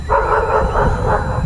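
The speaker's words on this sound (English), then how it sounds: "And there's those dogs again." Dogs bark in quick repeated yips, several overlapping at a moderate distance over a low rumbling background from a radio-controlled truck in a backyard.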